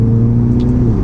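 A 2017 Mini Countryman JCW with 231 horsepower revs loudly and close by. Its steady engine drone holds strong for a moment with no one talking over it.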